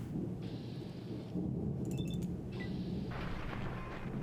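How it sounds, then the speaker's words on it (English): Thunder rolling through a rainstorm in the video game Fallout 3, a loud continuous rumble over steady rain. "I didn't realize that the thunder is that loud on the stream."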